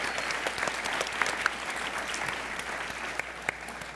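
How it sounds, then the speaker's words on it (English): An audience at a Batman convention panel gives a big round of applause, a steady wash of many hands from a large room, moderately distant, with faint whoops. "Give them such a huge round of applause"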